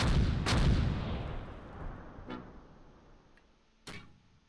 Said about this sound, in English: It sounds like those mortars are nearby